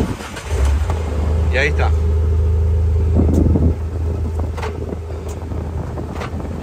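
A car engine turns over and catches after the ignition key is turned, settling into a low steady idle with some wind noise, while someone talks over it.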